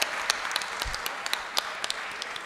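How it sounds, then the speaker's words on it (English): Applause from an audience at a dental conference session, a steady wash of many hands clapping with a few sharper close claps standing out, no voices over it. "Huge round of applause."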